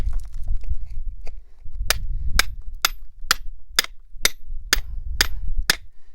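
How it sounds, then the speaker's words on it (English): A hammer chips at brittle rock beside fire agate, striking in sharp, evenly spaced blows, about ten in all, each a crisp crack that rings against a faint rumble between strikes. "try and chip some of this more brittle rock out of the way"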